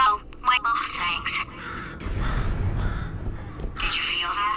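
A bird calls in the video game Portal 2, giving a few harsh caw-like cries near the start. A voice then talks over a rumbling background.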